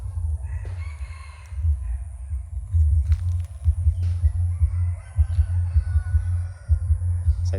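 A Lao-Thai decoy rooster crows loudly and close by, with repeated harmonic calls and clucks over a heavy low rumble.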